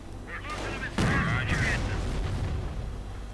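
Heavy artillery and gunfire in a WWII strategy game battle as a Sherman tank fires on grenadiers, a sharp blast followed by rumbling explosions and crackling shots, loud and close, with a commentator's voice over the din.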